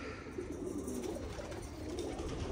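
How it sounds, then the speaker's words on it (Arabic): Pet pigeons cooing steadily in their loft, a low continuous murmur of soft coos from several birds close by, with no talk. "خوش طيور والله"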